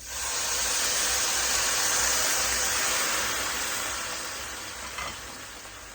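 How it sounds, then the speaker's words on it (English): Vegetables for vegetarian pancit canton hiss and sizzle steadily in a pan after broth is poured in, a loud broad wash of steam that slowly eases off, with no talking. "So now what I do is I add broth"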